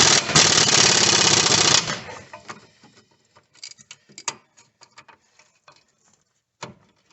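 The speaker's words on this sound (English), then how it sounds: "I like to just hit it with the pneumatic on full" A pneumatic impact wrench on full power rattles loudly and continuously for about two seconds while working strut bolts on a 2002–2007 Toyota Highlander, then trails off into scattered metallic clicks and light tool handling.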